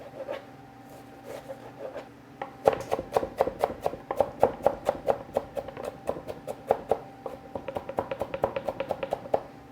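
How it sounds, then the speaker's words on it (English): A knife finely minces onion on a cutting board, a few scattered taps and then a fast, even run of sharp chopping knocks, close and crisp, slowing slightly toward the end, with no one speaking. "You want your onion to be nicely finely minced."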